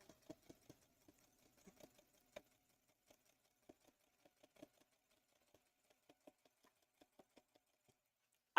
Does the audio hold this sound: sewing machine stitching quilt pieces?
yes